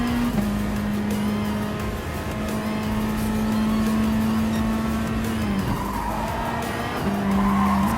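Gr.4 race car in Gran Turismo Sport, engine holding a loud, steady high drone that dips briefly as it shifts, with tire skid and squeal layered over it throughout.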